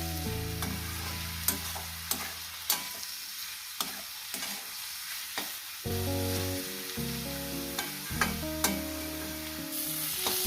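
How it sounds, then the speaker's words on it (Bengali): Onion, garlic and green chili fry in a pan with a steady crackling sizzle, punctuated by sharp clicks of a spatula stirring and scraping, no voices present. "আমি পেঁয়াজ আর রসুন কাঁচা লঙ্কাটাকে যেভাবে ভেজে নিচ্ছি"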